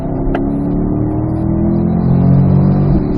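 A C8 Corvette accelerates on a race track: a steady, close engine drone that builds in loudness as the car gathers speed, with no voices over it.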